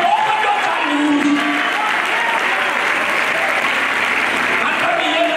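Church congregation clapping in sustained applause during a Sunday service in George, a steady dense wash of hands from start to finish with a voice faintly audible underneath.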